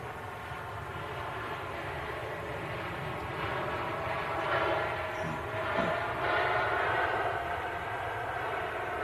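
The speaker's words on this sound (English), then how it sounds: "Ryanair touching down there on 23 right" A Ryanair aircraft touching down on runway 23 right, a distant broad jet roar that swells gently in the middle, with no talking.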